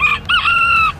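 A rooster crows once at a fancy chicken show, loud and close, a single drawn-out call lasting about a second.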